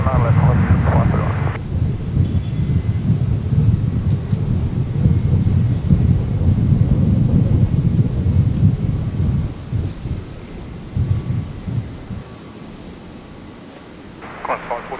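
Airliner on Brisbane Airport's runway 19 left spooling up and roaring through its takeoff roll, a loud sustained low rumble with wind buffeting the microphone, radio voices of air traffic control heard at the start and end.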